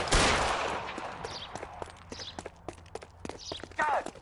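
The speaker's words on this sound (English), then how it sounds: "Sabo, stop or I will shoot!" Gunfire in the LA Noire video game during a chase, with several sharp shots and scattered impacts, footsteps and clattering in the background, fairly loud and without speech.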